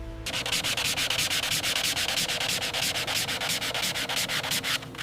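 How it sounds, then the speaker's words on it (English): A toy train character faceplate is sanded by hand in careful circular motions, producing a continuous, close, rhythmic abrasive rasping that holds steady at a loud level throughout, with no voices. "Now you sand the character faceplate with careful circular motions"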